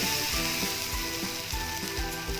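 Coconut tikki (nadia bara) sizzle in a small amount of oil, a loud continuous crackling fry heard up close with soft periodic thumps.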